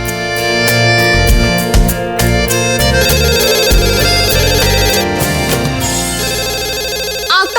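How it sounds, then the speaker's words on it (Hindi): A mobile phone ringtone plays loudly and continuously as a bright melodic tune, filling the clip on its own before cutting off at the end. "सुनाई नहीं दे रहा फोन रिंग हो रहा है?"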